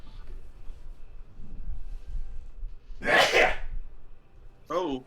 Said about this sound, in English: Dads always yell when they sneeze.